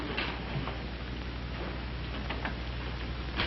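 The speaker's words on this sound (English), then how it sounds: "I think I hear a key in the front door." Old-time radio sound effect of a key working in a front door lock: faint small ticking and clicking against a steady hiss, with a few brief metallic taps near the end.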